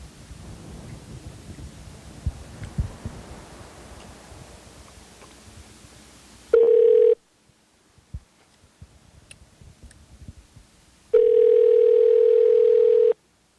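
An outgoing telephone call rings on the line: two long, steady ringback tones sound loud and clear, separated by a quiet gap, after a stretch of faint background noise.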